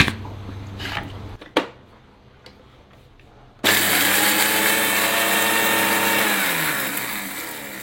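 An electric blender grinds spices for nihari. After a few light clatters and a short quiet stretch, the motor switches on suddenly into a loud, steady whirring drone that lasts to the end.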